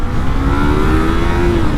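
A Yamaha YZF-R3 motorcycle engine with its original exhaust, a loud, steady, droning engine note with a rising tone, heard close up under heavy wind rush.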